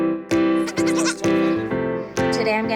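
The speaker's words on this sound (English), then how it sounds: "he took me to a baby goat farm" Baby goats on a goat farm bleat loudly and close by, several strong wavering cries following one another with short gaps between them.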